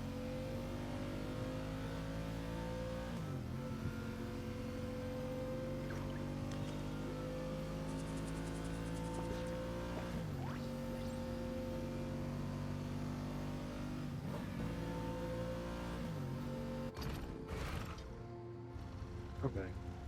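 Game engines revving in Genshin Impact's Natlan region, a steady layered roar with rising pitch sweeps as they rev repeatedly, loud and continuous across the whole stretch, with a voice talking over it.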